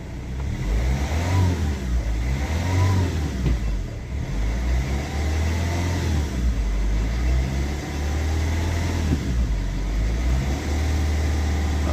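Rover 75 CDT diesel engine running steadily while the car pulls through the gears, a continuous mid-pitched drone with gentle rises and falls in revs, close and fairly loud, no voices.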